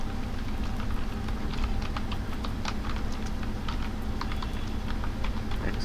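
Steady, rapid clacking of a computer keyboard as Python code is typed, close and continuous, with a low hum beneath and no talking.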